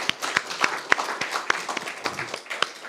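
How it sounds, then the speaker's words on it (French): A small audience at a regional student business-competition final gives sparse, uneven applause, individual claps clearly separate and fairly quiet rather than a full ovation. "On peut les applaudir très fort"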